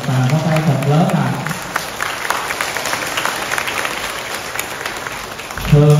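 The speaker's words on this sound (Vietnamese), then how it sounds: "Xin hãy dành những tràng pháo tay thật lớn ạ" A crowd claps at the Vu Lan ceremony at Dai Bi temple in Plano, Texas. The dense, steady applause fills the middle of the moment, and a speaking voice is heard briefly at the start and again at the end.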